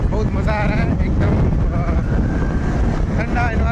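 Steady, loud wind buffets the microphone outdoors on a busy market street in the evening, a constant roar with a faint tonal hum running through it and no speech.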